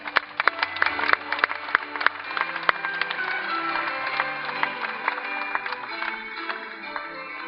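Indoor audience at a French doubles sport boules championship finals presentation in Le Puy-en-Velay, applauding volunteers with sustained clapping that starts sharp and scattered then thickens into a steady, moderately loud wash.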